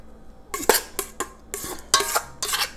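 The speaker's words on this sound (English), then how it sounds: "I'm gonna get about half the whipped cream and just spread it all out" Whipped cream being spread over a banana pudding tres leches cake in a dish, heard as a series of about six clattering scrapes and knocks of a utensil against the dish, close and fairly loud with short pauses between.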